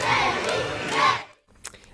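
A large crowd roars and cheers loudly for a boxing world champion with his belt on his shoulder, two swelling waves of shouting, then a brief lull and a short burst of claps.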